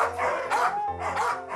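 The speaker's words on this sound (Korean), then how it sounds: "산책하는 애가 돌아올 때까지 아주 짖는 겁니다." Large dogs, huskies and malamutes, bark repeatedly and loudly nearby in quick rhythmic bursts, with no talking over them.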